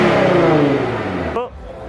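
Cars at a drag racing event in Aamby Valley rev their engines with a deep grunt, a loud falling engine note that cuts off sharply near the end, heard under a person talking.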